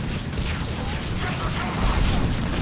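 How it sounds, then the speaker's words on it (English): Mortar fire in Mass Effect 3 on the Krogan DMZ mission: a loud, continuous, overlapping barrage of rumbling booms and blasts with no pause between impacts. "There's so much mortar fire that the sound effects are interrupting the other sound effects that just played."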